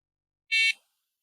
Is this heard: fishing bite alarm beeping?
yes